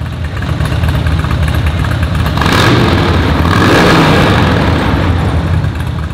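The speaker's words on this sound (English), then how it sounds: "let's go ahead and give her a listen." A 2015 Harley-Davidson Road Glide CVO Ultra engine idles loudly up close, a dense rumbling throb that swells briefly midway before settling back to a steady idle.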